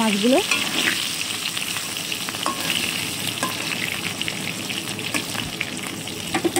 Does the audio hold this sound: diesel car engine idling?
no